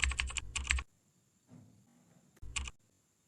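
Keys clatter on a computer keyboard in quick bursts of typing, close and fairly quiet, separated by short pauses and a soft rustle.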